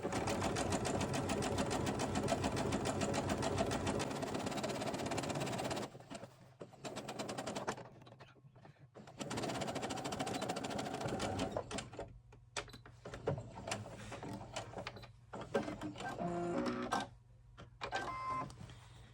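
A sewing machine zigzag-stitches the hem of an 18-inch doll dress, running in fast, rattling bursts of needle strokes with short pauses between runs.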